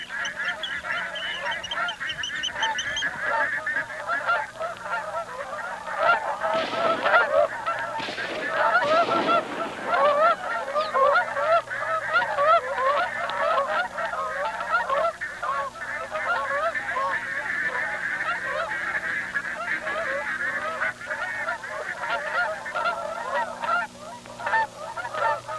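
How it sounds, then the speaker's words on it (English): Geese honking along the James Bay shore, a dense, continuous chorus of many calls overlapping at a moderate distance for the whole stretch, with no talk over them. "the coastal waters abound with ducks and geese"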